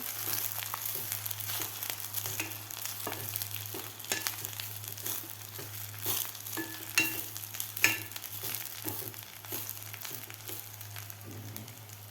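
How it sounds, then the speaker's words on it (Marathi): Green chickpea leaves sautéing in hot oil over medium heat, a steady close sizzle running throughout with irregular stirring scrapes and rustles of the wilting greens, no speech. "आता व्यवस्थित आपल्याला हे भाजी तेलामध्ये व्यवस्थित परतून घ्यायची आहे"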